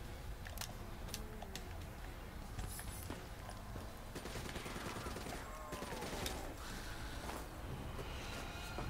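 Rapid ICR assault rifle fire in Black Ops 3 Zombies, with dense repeated shots and bursts crowding a busy game mix of other effects.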